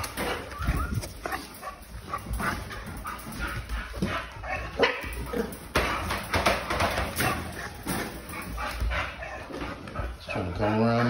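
Dog barking and whimpering near a new puppy, the sounds mixed into a busy, noisy scene with people talking throughout.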